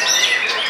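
A songbird at a bird-song contest gives a brief, bright chirping call, clear and close, with no voices over it.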